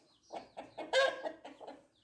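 A rooster on a farm with hens and ponies gives a run of agitated clucks, close and fairly loud, in short repeated bursts with one sharper squawk near the middle.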